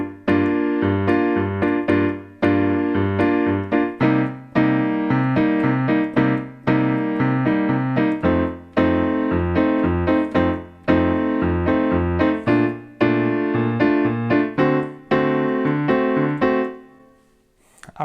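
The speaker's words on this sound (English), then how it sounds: "add quarter notes in the left hand, just to kind of emulate the bass and the drums and stuff and give it a bit more rhythm" Piano plays the chords of a pop song, with steady quarter notes pulsing in the left hand under sustained right-hand harmony, loud and close, running continuously before fading out at the end.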